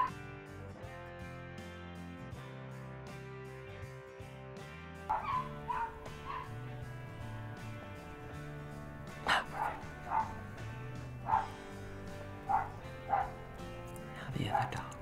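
Dogs barking outdoors, a run of short repeated barks and yips at a moderate distance, rising over steady background music and low room sound.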